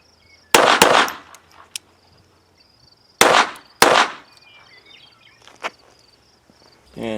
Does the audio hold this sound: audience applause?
no